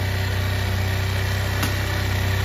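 Motorcycle engine held steady around 3840 RPM: a constant, close, buzzing hum with a fast, even pulse and no voices.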